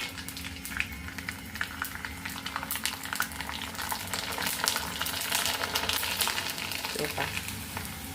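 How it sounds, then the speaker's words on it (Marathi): Rava papad frying in hot oil, a steady dense sizzle with bubbling crackle throughout, close and continuous. "तर आता आपल्याला याच्यामध्ये पापड सोडायचं"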